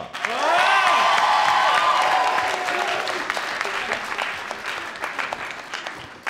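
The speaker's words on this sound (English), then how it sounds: "So please give a warm round of applause to Victor." Loud applause from an audience at a debating match fills the room, swelling quickly and then thinning into scattered clapping toward the end, with a few whoops early on.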